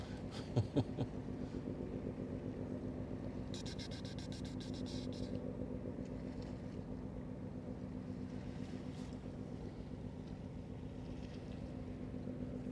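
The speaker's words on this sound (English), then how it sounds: "A 105 RPM engine." A distant cargo ship engine turning at 105 RPM thrums as a steady low drone on the Westerschelde waterway in the Netherlands, with faint broadband wind and water noise over it and a few brief higher clatters near the start.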